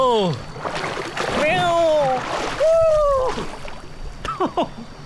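Water splashes from a dive into the pool beneath a waterfall, a short rushing burst amid loud, excited voices and shouting close by.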